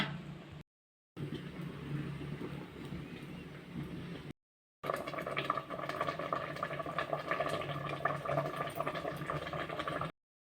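Water heating in a cooking pot for a fish curry, a steady seething bubble and hiss that runs throughout, briefly cut by two short gaps, close by and moderately loud.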